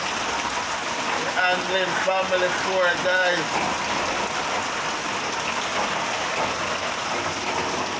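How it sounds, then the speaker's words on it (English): Heavy rain drums steadily on a roof in a dense, continuous wash, with a family voice talking over it briefly near the start. "Rain beating on like bullets on the roof."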